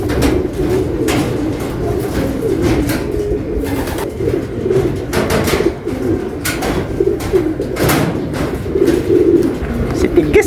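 Racing pigeons cooing at the loft after a rainy 241 km race from Buenavista, soft repeated low coos in bursts under someone talking nearby.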